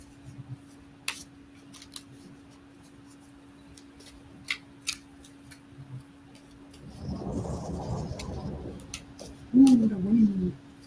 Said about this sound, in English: Ooh, the wind.